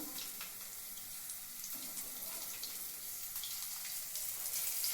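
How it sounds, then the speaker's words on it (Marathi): Marinated river fish coated in rice flour sizzling as it is dropped into hot oil, a steady hissing, bubbling fry that grows a little louder, no talking. "हे गरम गरम तेलात मच्छी सोडायची"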